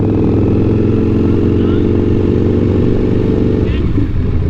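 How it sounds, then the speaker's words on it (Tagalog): A Ducati V4 S motorcycle engine idles loudly and steadily up close, a deep rumbling drone throughout, with a few voices speaking over it. "hindi siya normal na motor, big bike eh."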